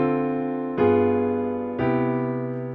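Three sustained piano chords struck one after another, each ringing and slowly decaying as inner voices move by small steps to show voice leading, clear and close with no talking.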